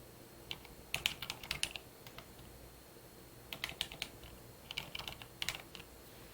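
Keys clatter on a computer keyboard as a search keyword is typed, in two quick bursts of close, light clicks separated by a brief pause, with no voices.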